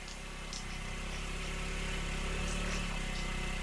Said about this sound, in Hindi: मेरे बेटे की गाड़ी की आवाज सुनाई दे रही है